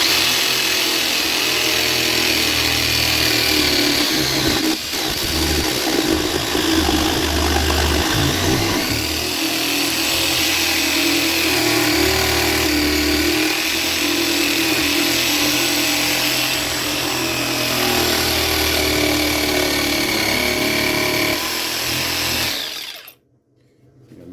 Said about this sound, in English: So let's go to it with the jigsaw.